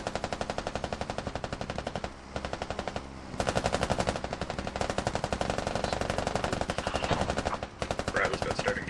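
Sustained automatic gunfire in the tactical shooter Squad during an urban fight with a Bradley vehicle and roof-mounted .50 cal guns, dense rapid bursts nearly continuous and loud, with a couple of brief gaps.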